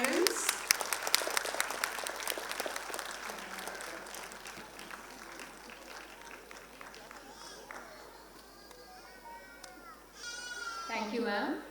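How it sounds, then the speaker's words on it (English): Parents applaud at a school annual day, steady crowd clapping that carries on for several seconds at moderate distance before a voice speaks over a microphone near the end. "We should keep the applause going, dear parents."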